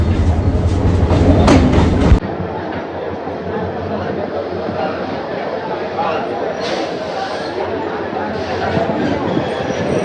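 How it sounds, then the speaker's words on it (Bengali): A train rumbles into a station on the Dhaka to Cox's Bazar route with a loud, steady roar and wheel clatter. The noise drops abruptly after the first couple of seconds, and faint voices are mixed in. "ট্রেন চলে আসছে আমাদের ট্রেন আসতেছে"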